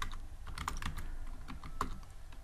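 Quick typing on a computer keyboard while writing Python code, a dense patter of close key clicks with a few firmer taps, steady and fairly quiet.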